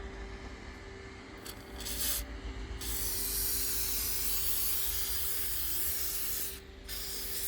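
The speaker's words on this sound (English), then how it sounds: "I'm gonna spray it with the linseed oil." Steady hissing spray of thin linseed oil runs for several seconds, with brief pauses and a faint mechanical hum underneath, close to the microphone.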